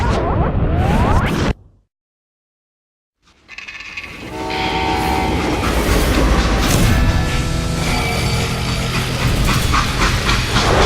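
A freight train rumbles in a Western shooter, the game Call of Juarez Gunslinger, with loud clattering and whooshing, a sudden gap of silence, then a sustained heavy rolling roar with metallic tonal squeals.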